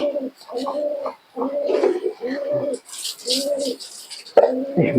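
A pigeon coos close by in a run of repeated, rounded phrases with short pauses between them, with faint voices in the background.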